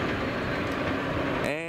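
Norfolk Southern train 227 running fast westbound on the main line, a loud close rumble and rhythmic wheel clatter that fills the whole short stretch before cutting off.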